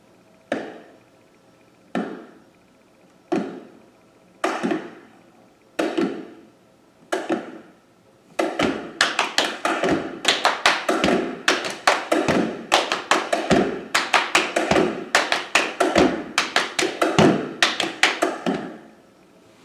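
Body percussion builds in layers: widely spaced single stomps at first, then a dense repeating rhythm of stomps, claps and pats, crisp and close with no voices.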